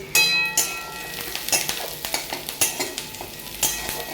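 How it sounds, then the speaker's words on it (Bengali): Onions fry in a pan with a steady sizzle, punctuated by repeated stirring scrapes and light metallic clinks of a spoon against the pan. "এই যে দেখো এখন পেঁয়াজ ভাজা চলছে"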